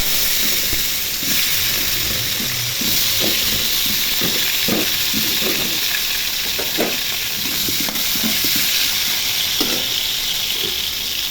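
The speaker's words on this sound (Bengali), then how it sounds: "এখন আলুগুলো আমি ভেজে নিব।" Potatoes coated in turmeric and salt fry in hot oil for a potato chicken curry, giving a steady, loud sizzling hiss throughout with scattered soft clinks and stirring sounds.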